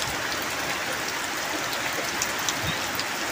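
Steady rain pours down around a hut in a rice field, a dense even hiss of drops on the surface with no talking, constant and close for the whole stretch.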